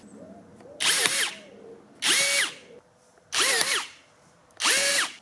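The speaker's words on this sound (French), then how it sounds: "je vais percer les anciens rivets" A cordless drill bores out old rivets on a licence plate in four separate bursts, each a loud high-pitched whirring spin of about a second with short pauses between, close to the microphone.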